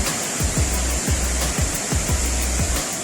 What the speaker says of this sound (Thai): ด้านหน้าเราน้ำตกชั้นที่สอง